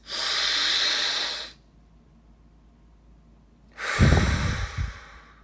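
Deep breaths drawn in through the nose, a long airy inhale followed after a pause by a second, louder snort-like intake, close and alone with no talk.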